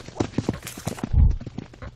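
A horse's hooves clip-clop in a horror video game, making a short run of close, evenly spaced thuds with one heavier low thump partway through.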